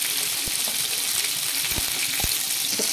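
Onion and coriander seeds frying in oil in a kadai, a steady loud sizzle with a few small pops and clinks throughout.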